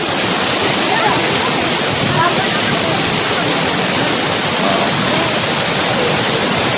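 Tagbibinta Falls, a 120 ft waterfall, roars as a loud, constant wash of rushing water that fills the whole clip without letting up.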